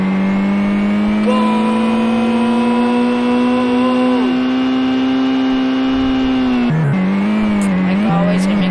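Ferrari in the Super Drift 3D racing video game: a loud, sustained, steady engine drone with an added overlapping tone, then dips and wobbles in pitch as the car slides and recovers near the end.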